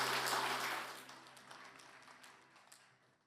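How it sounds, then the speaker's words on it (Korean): A church congregation at a men's fellowship prayer meeting applauds after a prayer. The clapping starts fairly full, then thins and fades to a few scattered, quiet claps. "우리 하나님께 영광의 박수 올리겠습니다."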